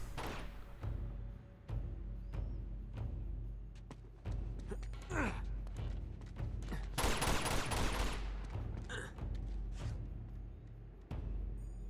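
Sniper and rifle fire in the Uncharted 2 video game, sharp separate shots spaced a second or two apart, with a dense burst of gunfire near the middle, moderately quiet.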